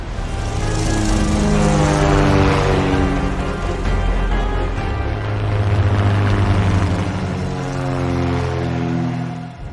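A loud, droning propeller aircraft engine hums steadily with a rich buzzing tone, swelling and easing slightly as the plane passes close by.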